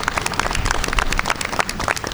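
Outdoor audience at a disability employment awareness flag raising clapping for the mayor, brisk, close applause with many individual claps, steady and loud throughout a short burst.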